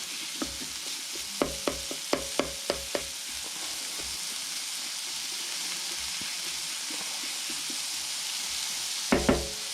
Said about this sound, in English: the shallots, and the garlic. I'm going to fry that off.